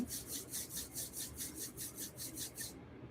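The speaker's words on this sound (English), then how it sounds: "rub your hands together" Palms rubbing briskly together in a steady back-and-forth rhythm, about a dozen close, soft rasping strokes that then stop, alone without talk.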